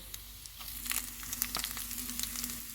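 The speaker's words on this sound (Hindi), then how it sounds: "इसको भी 30 सेकंड तक फ्राई करेंगे।" Ginger fries in hot oil with whole red chillies and cumin as a tempering for mash daal. It sizzles and crackles quietly and close by, with scattered pops.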